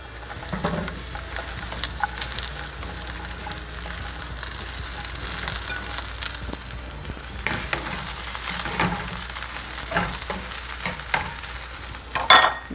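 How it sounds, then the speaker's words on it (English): Korean kkwari peppers and anchovies sizzle and crackle in a hot pan while being stir-fried, with scraping utensil strokes and clacks against the pan throughout, the frying hiss swelling louder in the second half. "How long are you gonna stir fry that? Just a minute, like this."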